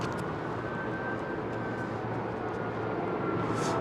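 An Airbus A380 passes overhead near Heathrow in fog, a steady, broad jet roar at moderate distance holding even throughout, with a faint high engine whine running across it.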